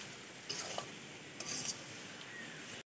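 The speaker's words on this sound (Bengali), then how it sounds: "বাটি চিনি দেওয়া হলো, দিয়ে এবার ভালো করে নাড়তে হবে।" Sweet mango pickle cooked with sugar being stirred in a pan: a couple of brief scraping strokes over a soft, steady sizzle, close and quiet.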